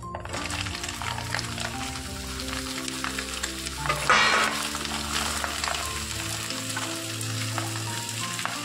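Ridge gourd tipped into a hot pan with turmeric-spiced oil sizzles loudly, a steady crackling fry with stirring scrapes, swelling briefly around the middle as the vegetable hits the oil, with no talk.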